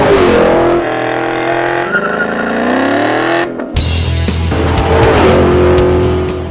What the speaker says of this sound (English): It's what happens when you combine a groundbreaking muscle car with the world's most winning exhaust.